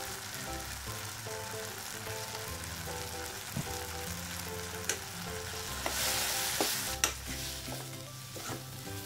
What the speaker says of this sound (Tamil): இந்த மிளகாத்தூளை எண்ணெயில் ஒரு நிமிஷம் அதோடைய பச்சை வாசனை போகிற வரைக்கும் ஃப்ரை பண்ணிக்கலாம்.